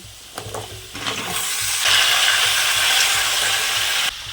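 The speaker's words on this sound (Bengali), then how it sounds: "তো বন্ধুরা আমার আলু কষে নেওয়া হয়েছে, এবার কুমড়োটা দিয়ে নিচ্ছি।" Pumpkin pieces tumble into a pan of fried potatoes, setting off a broad, steady sizzle that swells after a few stirring clatters and holds loud until cutting off near the end.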